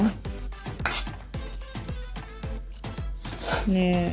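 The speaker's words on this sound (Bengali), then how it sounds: "এখন চলুন প্রথমে স্ট্রবেরিগুলো কেটে নেব" Knife chopping strawberries on a cutting board, a rapid series of about a dozen sharp close taps at an even rhythm with faint scraping, fairly loud, and a brief utensil clink near the end.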